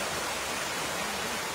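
Water rushing toward a waterfall at Mazatepec, Puebla, a constant broad hiss and roar with no pauses, close and steady throughout.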